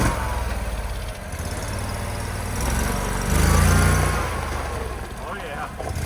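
An off-road vehicle engine, one left abandoned for over two years, rumbles steadily at low pitch with its differential lockers engaged, swelling briefly louder midway before settling back to a constant idle-like drone.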